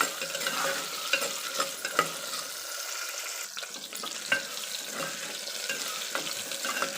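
Onions sautéing in oil for a curry leaf kuzhambu, a constant close sizzle with sharp clicks and scrapes from a stirring utensil scattered across it, briefly thinning midway; no speech.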